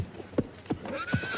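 A horse neighs and whinnies in a film scene, with rhythmic clip-clop hoofbeats and snorting close by, several strong pulses over a brief stretch without talk.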